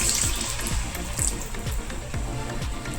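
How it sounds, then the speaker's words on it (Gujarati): Farali gota fritter batter sizzles and bubbles in hot oil, a steady close frying hiss with a few faint pops, with no voices. "તેલ પણ સરસ આપણું ગરમ થઈ ગયું છે તો એમાં પકોડી નાખીશું।"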